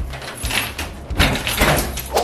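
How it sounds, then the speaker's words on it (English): A metal weight compartment door on a laundromat dryer is pulled open, giving a close scraping, sliding rattle with thumps, loud and busy across the whole moment. "Time to open up a weight compartment."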